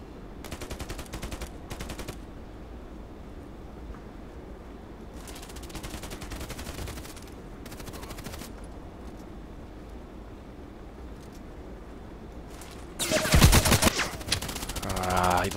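Gunfire in the Contract Wars shooter game: several bursts of rapid shots early and mid-clip over a steady background, then a louder close volley near the end.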